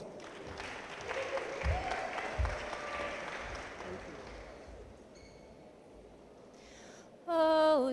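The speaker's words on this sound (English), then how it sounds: "Let's give her a big round of applause." Audience applause at a welcome-home ceremony for Olympic bobsledder Elana Meyers Taylor, a broad crowd clapping that fades toward the end before a sung note rises near the close.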